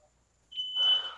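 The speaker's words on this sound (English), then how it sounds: "The fire alarm went off." A fire alarm going off: a brief high beep, then a loud, steady shrill tone with a harsh buzzing layer that holds to the end, close by, with no talking.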